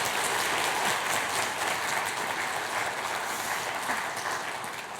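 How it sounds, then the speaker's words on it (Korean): A church congregation applauds during a baptism at a Christmas thanksgiving service, a dense, steady wash of clapping that fills the room and fades slightly at the end. "큰 박수 부탁합니다."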